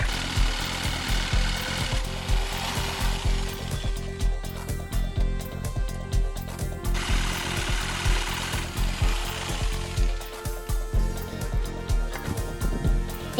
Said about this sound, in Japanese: ドリルで穴を開けて、ジグソーでカットしていきます。